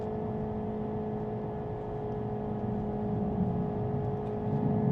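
A 650 hp Hyundai IONIQ 5 N, a 2024 electric all-wheel-drive car, accelerates hard, heard from inside as a steady electric whine with road and wind rumble rising gradually, with no speech.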